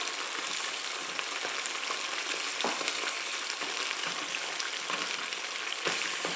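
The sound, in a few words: tomato-based sauce sizzling in pan while being smashed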